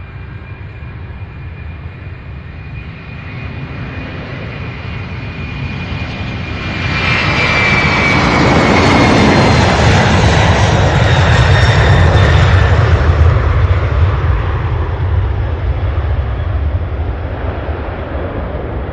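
A UPS cargo jet departs at night from Louisville's SDF airport. A loud, steady engine roar swells partway through as the aircraft passes, with a whining high tone, then holds a broad rumble, and no one speaks.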